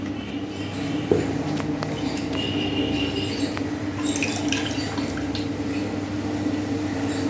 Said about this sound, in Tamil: கொஞ்சம் தண்ணி ஊற்றணும்